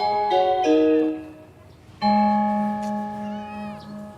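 A grey cat meows in two drawn-out, tonal calls with a short pause between them, close and clear, with no talking over it.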